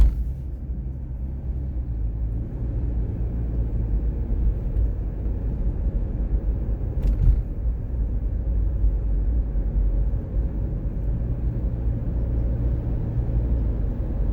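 A car drives on a Florida road on an overcast morning, with a steady low rumble of engine and tyres throughout and one brief faint click partway through.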